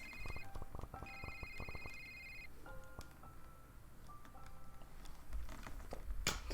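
A telephone in the video game A Short Hike rings in two quiet, bright electronic bursts, followed by softer chiming tones over faint background pattering.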